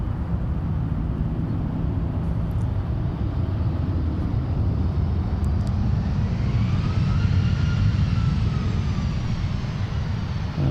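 Blue Angels jets crossing over Boeing Field, a continuous heavy roar of engines that rises slightly as the aircraft pass, loud and steady without talk.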